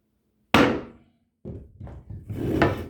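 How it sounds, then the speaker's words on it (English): Hammer blows ring out on a 1950s cast iron baseboard hot-water radiator: one loud, close metallic whack with a decaying ring, a pause, then a cluster of several quicker knocks. "you just give it a couple of whacks just to make sure"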